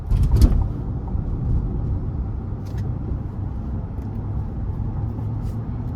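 A 2023 Cadillac Escalade ESV with its 6.2-liter engine in sport mode gives a low, steady engine and road drone from inside the cabin, with a brief thump near the start and a few faint clicks.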